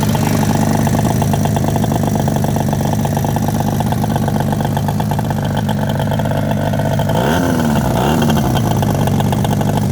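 A 1967 Yamaha YCS 180 two-stroke motorcycle idles loud and close, its buzzing, crackly exhaust note steady before two quick blips of the throttle rise and fall near the end, with no voices.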